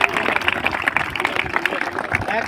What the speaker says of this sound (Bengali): করতালি দিয়ে সবাই উৎসাহিত করবে